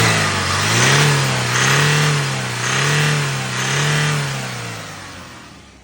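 A car engine, shown for sale and in good condition with no stray noises, runs close by and is revved four times in a row, each rev swelling and falling before it settles back.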